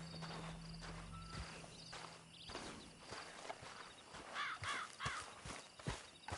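Horse hooves clip-clop at a walking pace in the video game Red Dead, a steady series of hollow knocks, with a brief neigh and some crow-like caws in the background.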